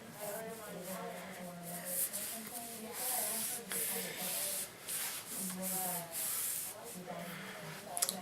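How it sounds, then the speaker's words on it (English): Paste wax is rubbed onto the tip of a traditional bow in soft, repeated scrubbing strokes with brief pauses, while someone talks quietly in the background. "So I'm going to put that wax in the top too. Just right on the tip."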